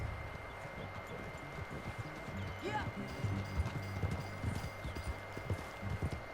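Horse hooves clip-clop steadily at a ride's pace in Red Dead Redemption 2, a rhythmic string of close hoofbeats running under a brief spoken word.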